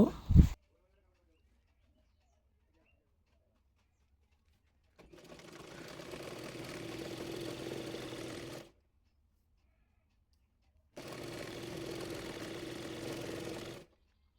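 A sewing machine stitches the folded hem of a palazzo pant leg, running in two steady whirring bursts of several seconds each, separated by silence, after a brief knock at the start.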